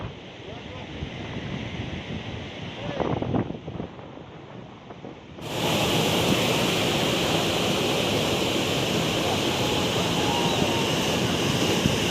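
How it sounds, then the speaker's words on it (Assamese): Rushing sea surf roars steadily with heavy wind buffeting the microphone, loud and continuous after a quieter opening stretch. "সাগৰৰ ঢৌ।"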